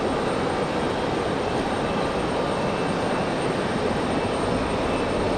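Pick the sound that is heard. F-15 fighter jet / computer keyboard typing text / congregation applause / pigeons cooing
F-15 fighter jet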